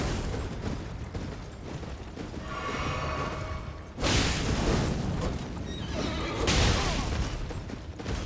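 A horse whinnies amid battle in the video game Elden Ring, set against loud clashing booms, impacts and bursts of combat noise that swell midway and stay dense throughout, with no talking.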